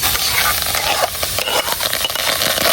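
Raw green mango pieces cook in a kadai, giving a loud, steady sizzle with scraping stir strokes throughout and no talking.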